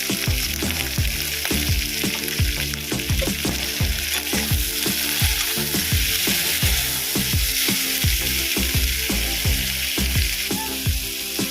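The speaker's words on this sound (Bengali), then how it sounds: "হালকা করে ভেজে নেব" Chicken lightly frying in a pan for a home-style chicken kosha, a steady bright sizzle running throughout with repeated stirring knocks of a utensil against the pan, close and alone with no talk.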